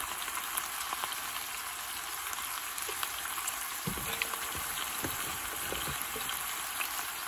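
Frozen ground beef frying in a pan for a spaghetti dish, a steady close sizzle and crackle with occasional pops and stirring scrapes, no talking.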